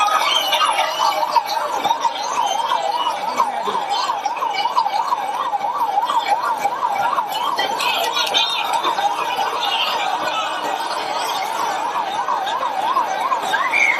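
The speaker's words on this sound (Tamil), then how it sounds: "ஆம்புலன்ஸ் வழி விட்டுருக்கேன்." An ambulance siren wails in a steady, rapid up-and-down cycle throughout, loud and continuous over background street noise, with no speech.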